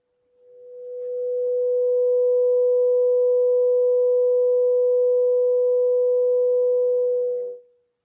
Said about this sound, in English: A simple coil heated turns on a cylinder and makes sound.